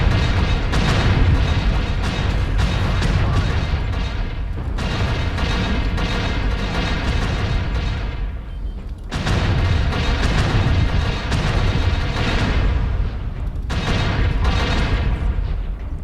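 Artillery strike explosions in MechWarrior Online, loud heavy rumbling booms in a dense continuous barrage, with sharp fresh blasts near the start, middle and end and rolling mechanical roar between them.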